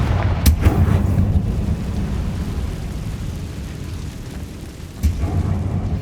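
Confringo blasting spell cast in Hogwarts Legacy, heavy booming explosive bursts at the start and again near the end with a rumbling low roar between, loud and close.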